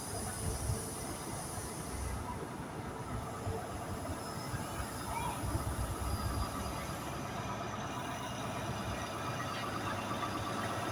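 An HST high-speed train stands at Stirling station with a constant loud engine rumble and rolling rail noise filling the platform, steady throughout with faint squealing and no clear speech.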